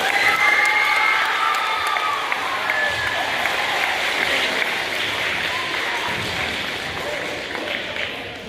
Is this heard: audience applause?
yes